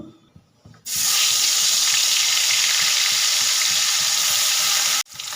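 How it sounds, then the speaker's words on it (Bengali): Rohu fish pieces dropped into hot oil in a wok, being fried for a potato and cauliflower curry: a sudden loud, close sizzle bursts out and holds steady for several seconds before cutting off. "তেল গরম হয়ে গেছে এবার মাছগুলোকে দিয়ে দেব"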